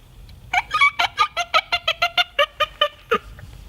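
A hands-free turkey reed call imitating a turkey, blown close up in a rapid series of about fifteen sharp, raspy yelps, with one final longer note.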